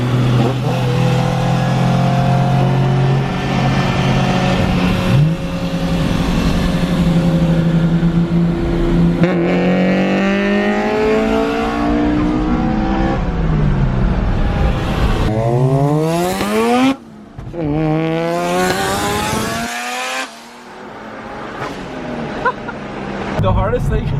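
A rotary-engined racing car screams through repeated rising revs and gear shifts, loud and close, with brief drops in power between pulls.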